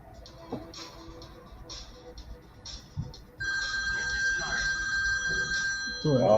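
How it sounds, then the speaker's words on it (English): A phone rings with an incoming call, a bright electronic ringtone starting midway and repeating steadily at close range after a quieter stretch of background sound. "Oh, phone call."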